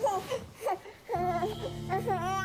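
A baby cries in short wailing bursts, rising and falling close by, with a brief pause before a longer, louder cry.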